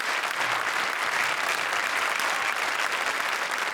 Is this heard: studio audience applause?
yes